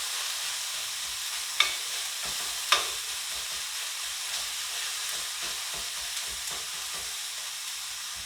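Mish mash sizzling in a pan as it is stirred, a steady close frying hiss with two sharp scraping clinks early on and softer utensil scrapes afterward.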